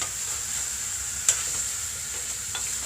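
Chopped onion frying in a pan for beef curry, a steady soft sizzle with occasional stirring scrapes and one sharp clink, close and continuous with no talk.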